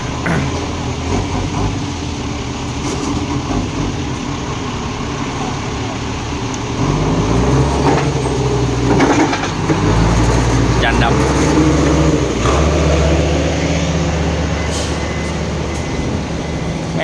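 A vehicle engine fitted with an aftermarket exhaust pipe runs steadily and close, its low droning note rising and growing louder midway, with a voice talking over it.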